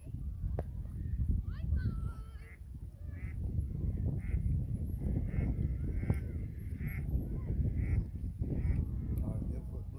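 Ducks quack and honk in scattered bursts over a low rumble of wind and nearby voices talking outdoors at Lochore Meadows.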